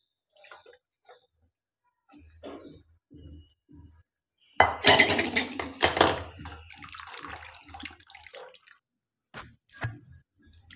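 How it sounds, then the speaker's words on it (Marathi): Water is drained off boiled Maggi noodles. A few soft taps come first, then a sudden loud wet rush with clinks of glassware, which fades into scattered drips and small knocks. "याचं पाणी काढून घेऊ."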